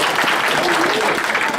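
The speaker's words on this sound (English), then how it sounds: "Can you respectfully please give him a round of applause?" Audience applause for candidate Mario De Jong of a liberation movement at a political event, loud and steady throughout, with cheering voices mixed into the continuous clapping.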